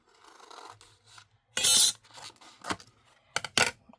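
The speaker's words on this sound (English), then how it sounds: "So we're going to just cut this piece here." Craft paper is cut in a few short, rasping strokes, one longer scrape followed by several brief snips close to the ear, with quiet handling between them.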